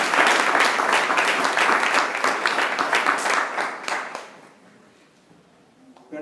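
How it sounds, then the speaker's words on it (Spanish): A church congregation claps loudly together for about four seconds, a dense steady patter that then thins and fades quickly into near silence. "¿Cuántos pueden dar un aplauso a Cristo por su sangre?"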